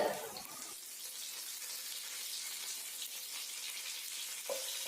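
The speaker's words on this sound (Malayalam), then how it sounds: "ആ വെളിച്ചെണ്ണയിൽ തന്നെയാണ് ഞാൻ കുറച്ച് കറിവേപ്പില ഇട്ട് കൊടുക്കുന്നുണ്ട്" Curry leaves hit hot coconut oil in a pan that was just used for frying fish, giving a loud burst of crackling at the start that settles into a steady bright sizzle.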